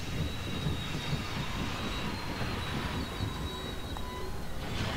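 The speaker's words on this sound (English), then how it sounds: "The train is gonna pick me up." A train arrives in the video game Dark Cloud 2 with a steady, loud rumble and a thin high whine that hold for the whole stretch and carry no talk.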